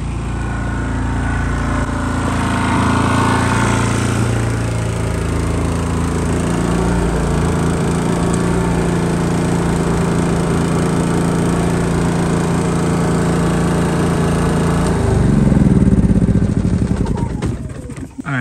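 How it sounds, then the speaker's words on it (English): A Harbor Freight 3500 generator runs loud and steady close by, its engine droning evenly for the whole stretch with a brief surge in load near the end and no one speaking over it. "So that's the Harbor Freight generator 3500."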